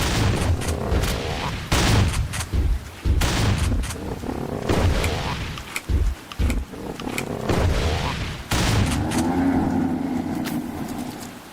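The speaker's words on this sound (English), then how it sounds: "Shotgun." Shotgun blasts in a PC game, The Lost Stranger: several loud, booming shots fire close together, each with a rumbling tail, broken by brief pauses and ending in a longer low roar.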